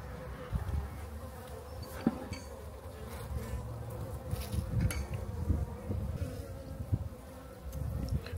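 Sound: honey bees buzzing in a hive

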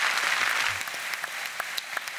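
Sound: audience applause

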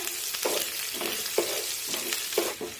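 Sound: sautéing finely chopped green chillies in a pan

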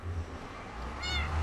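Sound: cat meowing in video game Minecraft

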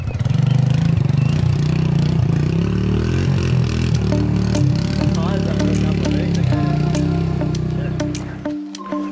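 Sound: motorcycle engine idling before being turned off

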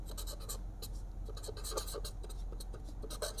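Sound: pen writing on paper while solving a math equation

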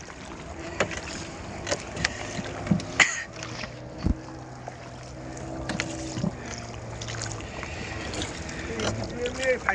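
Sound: boat ride on the sea

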